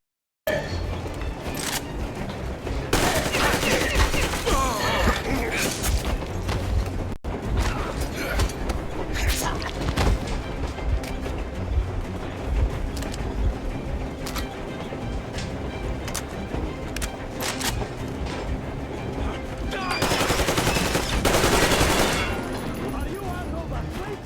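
Gunfire in Metro Exodus, with bursts and a heavy volley of shots over dense combat noise while voices shout throughout.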